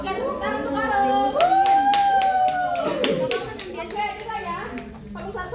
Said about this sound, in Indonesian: Oke, tepuk tangan untuk Arul